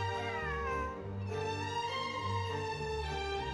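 A cat in Genshin Impact gives a long, drawn-out meow followed by further wavering, close-up meowing with a clear tonal pitch, over quiet game ambience.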